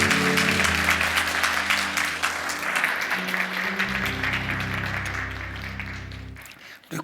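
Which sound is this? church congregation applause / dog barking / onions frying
church congregation applause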